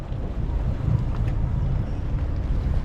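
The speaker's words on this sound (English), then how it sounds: "I always like to do a port tie-up because we get a little wind coming over from port." Steady wind blowing over a sailboat tied up at a mooring, a continuous low buffeting rumble with some higher airy hiss and no voices.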